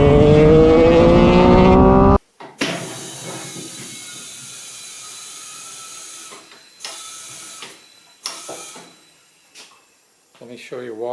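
An air compressor in a cold workshop drones loudly with a mechanical hum for about two seconds, then drops to a quieter steady whine broken by knocks and clatter.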